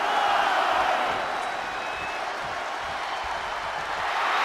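A large wrestling arena crowd cheers and roars steadily at a Smackdown event, a loud, sustained wash of voices that swells again toward the end.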